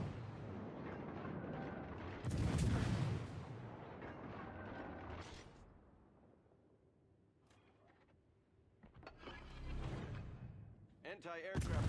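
Heavy warship main guns firing shells in World of Warships, deep booming salvos with long rumbling tails, a quieter lull, then fresh blasts near the end, with a voice talking over parts of it.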